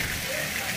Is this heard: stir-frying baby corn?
no